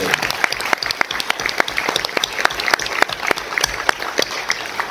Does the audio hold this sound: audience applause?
yes